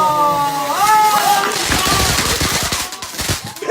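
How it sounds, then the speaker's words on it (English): Fireworks set off indoors from a German birthday cake, with crackling bursts and rapid popping that rise into a dense, loud fusillade of sharp reports, while people's voices are heard over it. "Fireworks"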